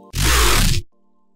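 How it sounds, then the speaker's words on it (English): A thick FM dubstep growl synth built in Serum sounds as one short, dense, gritty burst lasting under a second, loud and wide, after a brief low tone and before a quiet hum. "for today I'm gonna be making a thick dubstep growl"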